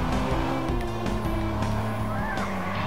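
Car engine droning steadily in the Watch Dogs video game while the vehicle drives, with shifting tones like gear changes and tyre noise, loud and continuous, a voice faintly under it.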